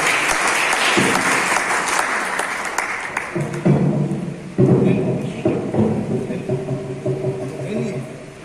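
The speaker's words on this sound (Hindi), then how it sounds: "आपकी जोरदार तालियों से" Loud, sustained applause from a large audience at a Hindi literary event fills the clip, a dense crackling wash of clapping with a voice speaking over it.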